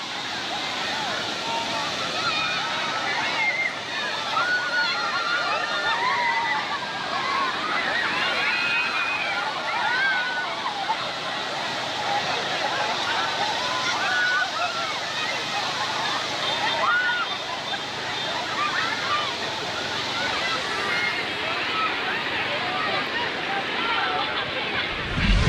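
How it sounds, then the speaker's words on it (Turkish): Waves surge and wash over an Indonesian coastline, a dense roaring rush of water that churns steadily throughout, with voices shouting faintly beneath it. "Endonezya'da bir kıyı şeridinde dalgaların aniden yükselip ortalığı sular altında bırakan bir görüntü var."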